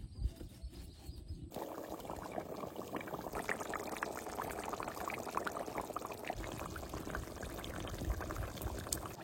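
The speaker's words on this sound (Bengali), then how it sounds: "ঝোলে তো সুন্দর জাল উঠে গেছে" Village-style fish curry broth with potatoes bubbling hard in a pot, a steady dense simmering hiss and burble that runs continuously and fairly close after a quieter moment at the start.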